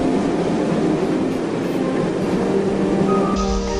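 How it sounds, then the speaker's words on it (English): Steam engine train blasting past on a model railway, with a loud, steady rushing rumble of rolling wagons and a sharper change near the end as it goes by. "Then suddenly, Gordon blasted past him"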